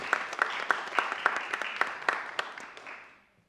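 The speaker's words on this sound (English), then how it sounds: "a small round of applause to those officers now would be most welcome" A small round of applause at a full council meeting: a modest group clapping with distinct individual claps in a loose rhythm, tapering off and fading to silence after about three seconds.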